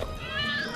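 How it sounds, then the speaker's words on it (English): Cats give a short, thin meow close by, a single rising-and-falling cry over a quiet background. "The kitties like her."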